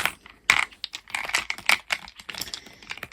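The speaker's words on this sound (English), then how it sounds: "So we're going to roll 2 dice today" Two dice are rolled for a tarot reading. They rattle and clack in a quick run of sharp, close taps that tumble on for a few seconds before settling.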